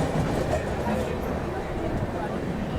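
Sachkhand Express running between Hazur Sahib Nanded and Amritsar rumbles through Jalgaon Junction, a steady low rolling roar of wheels and cars with a faint murmur of voices on the platform.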